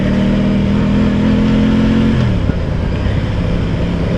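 A 2025/26 Aprilia Tuono 660 Factory motorcycle engine pulling uphill, a loud steady mid-pitched drone from the rider's position that drops in pitch around halfway as the rider shifts or eases off.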